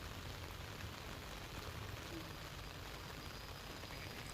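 Monsoon rain pours steadily onto surfaces in a Gujarat village, a dense, even hiss of drops that holds at a constant level throughout without any voices.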